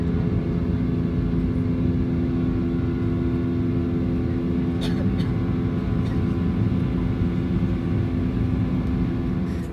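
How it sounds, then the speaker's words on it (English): A jet engine on an American Airlines Boeing 737 roars steadily and loudly during takeoff, a dense continuous rumble with a constant tonal whine held close throughout. "This passenger captured the takeoff of the American Airlines 737"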